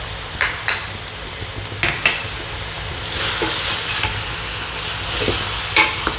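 Pork stir-frying with black pepper in a pan, a loud continuous sizzle broken by sharp utensil clicks and scrapes against the pan, close up with no voices.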